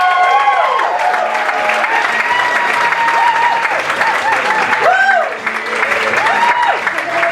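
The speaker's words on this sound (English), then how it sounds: "please keep the applause going for your next act" A comedy club audience applauds and cheers for a stand-up comedian, a steady loud roar of clapping with whoops and shouted voices mixed in throughout, dipping briefly near the end before swelling again.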